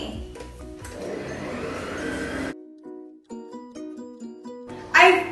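Electric mixer beating canestrelli biscuit dough: a loud, steady motor whir for a few seconds that cuts out, then quieter intermittent whirring and bumps, ending in a brief louder burst.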